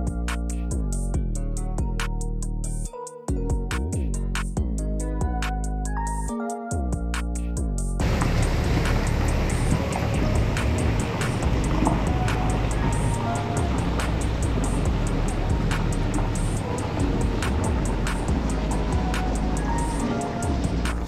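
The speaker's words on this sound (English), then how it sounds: "And then I'm just gonna drive, and it's gonna spread it evenly along here." A truck slowly pulls a Big Tex 14LP dump trailer whose spreader gate lets gravel pour out and spread; a steady, loud, broadband rumble of engine and falling stone runs throughout, after a brief stretch of music at the start.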